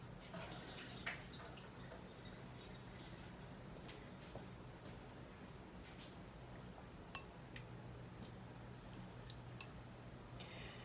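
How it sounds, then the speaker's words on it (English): Water drains off peeled potatoes in a kitchen pot for a Southern-style ground beef and vegetable soup, a steady, fairly faint splashing stream running throughout with a few small clinks. "Let me drain this water off."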